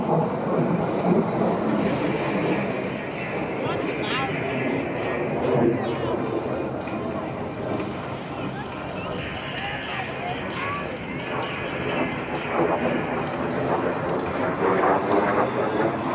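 A MiG-17 jet fighter roars past at an air show, its engine noise swelling and fading over several seconds, with a murmur of people talking in the background.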